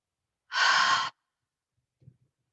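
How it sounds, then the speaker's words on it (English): A loud breath pushed out during a yoga sun salutation sequence, one forceful exhale lasting about half a second, followed by a faint soft breath afterward. "Breathing out loudly if I need to."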